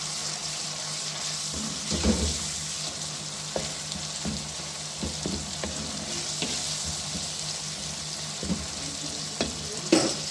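Spices with chilli and salt fry in a pan for mixed mustard-green saag, giving a faint, steady sizzle broken by repeated scraping clinks of a spoon stirring the pan.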